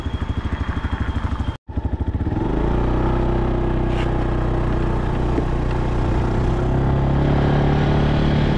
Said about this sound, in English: we're going to take the bike out, see how it drives